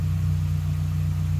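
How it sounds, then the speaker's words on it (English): A car engine with dual overhead cams, warmed up and idling with a major exhaust leak and a badly rattling muffler: a loud, steady low rumble that runs without a break, close by, with no voices. "It's up to temperature, with the exception of a major exhaust leak because the muffler's rattling real bad."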